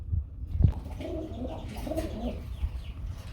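A Bombay pigeon at a farm gives soft, low rolling coos in a short phrase, close and clear, after a brief thump, with no talking.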